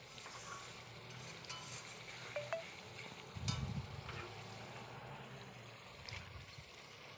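Meat is added to hot frying masala in a pan, giving a quiet, steady sizzling hiss with a brief louder crackle of frying partway through.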